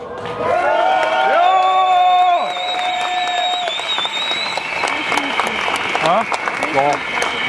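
A large outdoor protest rally crowd in Hamburg applauds and cheers loudly, with whistles and whoops rising over sustained clapping, then the applause thins as a speaker begins talking.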